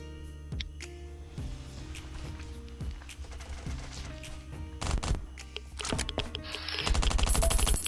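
Gunfire in the survival video game Last Island of Survival, a series of separate sharp shots spaced across the span that end in a dense rapid burst, with no talking.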